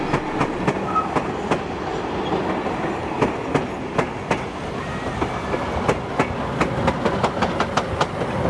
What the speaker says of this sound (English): 3642 is seen pulling a train